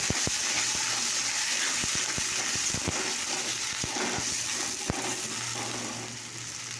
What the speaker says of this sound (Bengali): দেখো বাটি ধোয়া জলটা আমি দিয়ে দিই